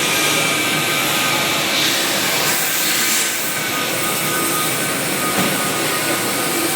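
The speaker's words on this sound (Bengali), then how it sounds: "এই দেখেন মেশিন মাল কাটতেছে।" A large industrial machine cutting aluminium gives off a continuous loud, broadband roar and hiss with no clear breaks, sounding close by.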